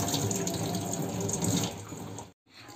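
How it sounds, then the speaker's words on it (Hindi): Tap water runs steadily into a kitchen sink as tomatoes are washed, a close, continuous splashing rush that stops abruptly near the end, then resumes. "तो टमाटर को पहले धो लेंगे।"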